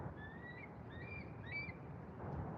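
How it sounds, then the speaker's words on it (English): Eagles give thin, high chirping calls in three short bursts beside a trout stream in southeastern Minnesota, faint and distant over a steady outdoor hiss. "There's those eagles chirping."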